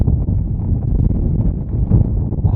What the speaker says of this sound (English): I hope the wind is not disturbing. It's really windy today